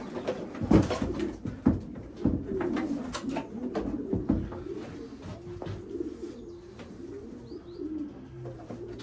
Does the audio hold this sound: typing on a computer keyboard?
no